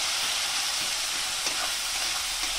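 Sliced onions frying with salt in a pan for Bengali-style country chicken, a steady close hiss and sizzle with faint crackles and no talk.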